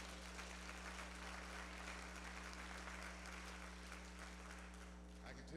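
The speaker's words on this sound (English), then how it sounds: "Give them a hand clap of praise for those reflections" A church congregation at a celebration-of-life memorial service gives a steady round of applause, a faint, even wash of clapping heard over a constant low hum.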